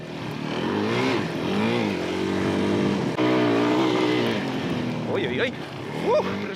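A Suzuki DRZ 400 motorcycle with its stock muffler accelerating, a fairly subdued engine note climbing through revs with gear changes, heard close and steady while a person talks over it.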